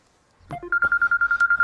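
A phone ringtone starts after a brief rustle, then a steady electronic tone pulses in a fast, regular rhythm, close and fairly loud.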